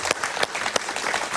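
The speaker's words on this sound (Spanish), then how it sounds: "Un aplauso Iván para el Duque" Audience applause at a political gathering for a foreign minister, a brief burst of close, busy clapping with a few sharper claps standing out.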